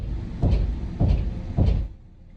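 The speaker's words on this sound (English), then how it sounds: "We're hearing knocking on the door" Three evenly spaced knocks on a door, each a dull thud with a short rattle, fairly close and alone, followed by quiet.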